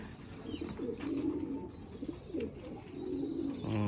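Madrasi and Andhra pigeons in a loft coo steadily, with several overlapping throaty, rolling calls repeating throughout at close range and no talking.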